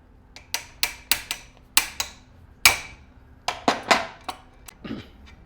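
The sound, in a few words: loosening the large bolt on a bag closer machine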